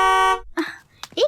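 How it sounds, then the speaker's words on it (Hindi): A car horn sounds outside in one steady, loud blast lasting about a third of a second, after which a voice starts speaking. "हॉर्न बजा के परेशान क्यों कर रहे हो?"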